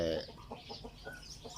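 A rooster crows faintly in the distance, followed by a series of soft clucking calls from fowl in a quiet outdoor setting.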